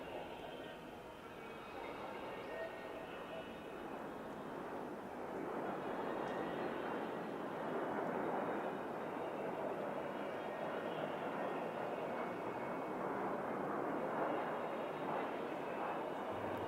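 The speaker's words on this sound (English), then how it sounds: "adding 2 extra jets to this classic Patrouille de France move called Le Shérif" Patrouille de France jets fly the Le Shérif formation manoeuvre at an airshow, making a distant, fairly faint, sustained engine rush that swells gently partway through and stays continuous.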